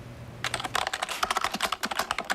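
Fast, steady typing on a computer keyboard by a young girl, a dense patter of close keystrokes that starts after a brief quiet moment and continues without pause.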